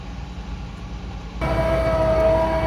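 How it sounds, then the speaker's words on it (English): A train rumbles overhead on a bridge at a farm drainage site, a loud broad roar swelling in halfway through with a steady tonal whine, heavy low rumble throughout. "a train going over the top of him"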